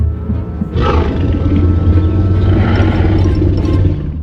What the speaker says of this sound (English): You don't have to be a Jurassic Park fan or dinosaur lover to recognize that infamous roar